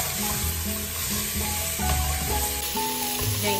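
A Brazilian pot roast of beef, seasoned with Bahian spice and beef stock, sizzles steadily in a pan while it is stirred, a continuous close frying hiss with soft scraping throughout.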